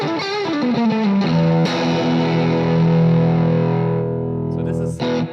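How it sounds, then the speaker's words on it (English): An electric guitar plays through an AMP1 amplifier cranked to 10, so the power amp saturates. A few quick notes lead into a long sustained, thick, compressed chord with heavy reverb before it cuts off with some pick noise. "So this is all power amp saturation."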